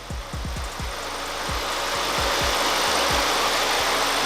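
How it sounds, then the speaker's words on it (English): A car engine running on lacquer thinner in the fuel idles steadily at close range, a continuous low rumble with faint rhythmic knocks and no voices. "We're going to listen to the engine run"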